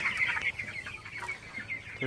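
Broiler chickens on a farm in intense heat give a run of short, close clucks and squawks in quick succession, with a faint steady hum underneath.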